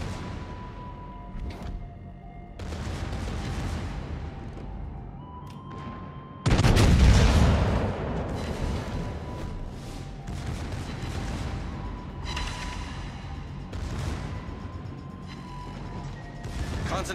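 Battleship artillery fire in World of Warships from a Tier 7 German battleship: scattered shot reports, then one heavy, loud booming salvo partway through, followed by lighter rumbling impacts and a faint background voice.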